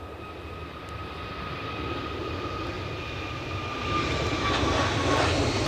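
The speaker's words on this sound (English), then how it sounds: "next to go, Aer Lingus back to Dublin." An Aer Lingus jet takes off from Edinburgh Airport in a storm, its engines a rising roar with whining tones, growing louder and nearer over several seconds, no talk.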